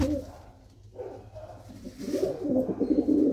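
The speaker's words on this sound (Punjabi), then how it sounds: "ਇਹ ਸਾਰੇ ਸਾਰੇ ਕਬੂਤਰ ਸੇਲ ਨੇ ਬਾਈ" Pigeons kept for sale coo softly at first, then the throaty rolling calls grow louder and denser toward the end.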